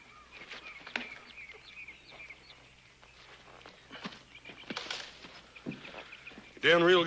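Pony walking with hooves clip-clopping in a quiet outdoor scene: soft, irregular hoof knocks under faint birdsong, and a voice breaks in loudly at the very end.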